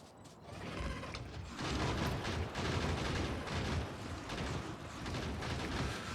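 Gun turrets firing in Factorio, a fast, continuous mechanical rattle of rapid shots at moderate loudness, holding steady for several seconds after a brief quieter start.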